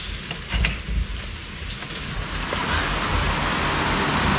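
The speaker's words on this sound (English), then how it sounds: "It's really heavy rain." Heavy rain comes down outside a hotel room in Cambodia, a broad hissing wash that starts uneven with a few louder patters and then settles into a steadier, fuller roar.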